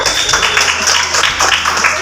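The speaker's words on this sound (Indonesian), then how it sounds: "Tepuk tangan dulu buat kelompok 1" Dense, loud applause from a classroom of primary school pupils cheering the winning group, a continuous crackling wash of many hands close by with a faint voice beneath.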